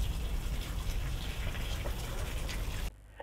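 A hose fed by a 12-volt solar-powered pump sends out a jet of water with a steady gushing, splashing rush that stops abruptly near the end, leaving quiet.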